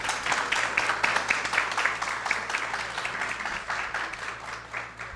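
A high school graduation ceremony audience applauding steadily, a dense wash of clapping from many hands that holds for several seconds.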